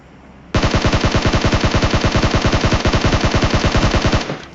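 Automatic gunfire in a battle royale video game, a loud, close sustained burst of rapid, evenly spaced shots lasting about four seconds, starting abruptly and stopping just as sharply.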